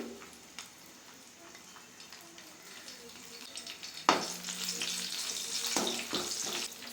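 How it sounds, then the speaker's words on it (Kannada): Mustard seeds dropped into hot oil for tempering, with quiet kitchen noise first and then a sudden loud crackling sizzle that keeps popping steadily, close up. "ಸಾಸಿವೆ ಹಾಕ್ತಾಯಿದ್ದೀನಿ."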